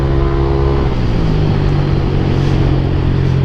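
Yamaha NMAX v2 2021 scooter riding along, its engine a loud, steady drone close by throughout, with no talking.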